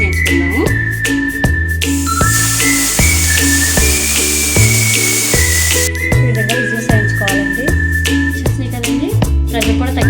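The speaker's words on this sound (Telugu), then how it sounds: "మటన్ కదండి బాగా ఉడకాలి కాబట్టి ఒక విజిల్స్ వేయించుకుందాము." A pressure cooker cooking mutton gives off a loud, sustained whistle with rising and falling tones, joined by rhythmic hissing bursts of escaping steam.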